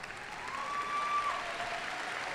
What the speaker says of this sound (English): Principal Clark, give him a hand and clap.